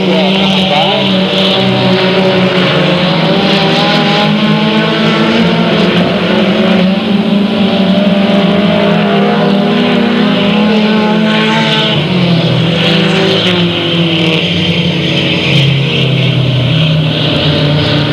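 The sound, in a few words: race cars passing at Delta Speedway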